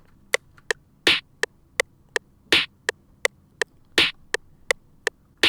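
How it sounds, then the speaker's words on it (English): A programmed drum pattern from an FL Studio beat repeats in a steady loop: sharp, clicky ticks alternate with a bright, noisy snare hit that lands at even intervals, crisp and close with nothing else playing. "This is another snare that I laid down for another part of the song"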